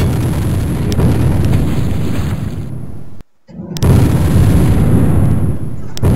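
Rapid gunfire and blasts from a shooter video game, loud and dense across the clip with a brief silent break midway before the shooting resumes.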